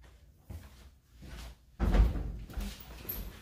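A kitchen pantry door with shelves behind it opens in a newly moved-into home, giving a few soft creaks and rustles and then a louder thud as it swings wide.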